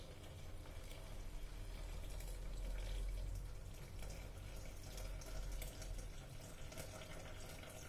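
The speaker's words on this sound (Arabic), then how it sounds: "دونك الماء غندير 400 غرام ديال الماء" Water poured steadily into a Thermomix bowl, a soft continuous splashing and trickling at close range with no talk over it.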